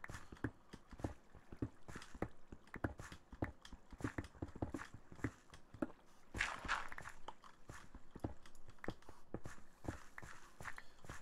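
Footsteps in the Minecraft Better than Wolves mod tread in a steady, quick rhythm of soft thuds, faint and continuous, with no one speaking.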